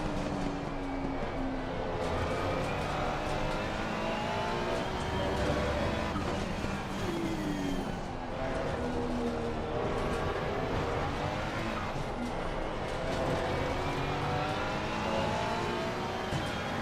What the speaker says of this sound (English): Look at that Porsche acceleration